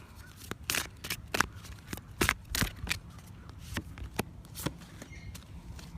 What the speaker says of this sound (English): I'm going to just shuffle a bunch of cards